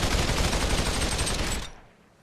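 SMG fired in Population: One as a rapid, continuous burst with little recoil, loud and close, cutting off abruptly and leaving a short fading tail.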